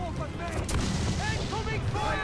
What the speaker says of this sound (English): Oh, the power of heavy shot.